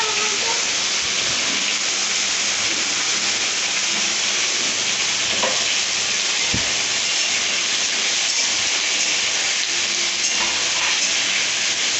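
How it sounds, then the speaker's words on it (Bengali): Potatoes fry in a pan with a constant, dense hissing sizzle that stays close and even throughout, broken only by a few faint knocks. "এবার আমি আলুগুলো লাল লাল করে একটু ভেজে নেব।"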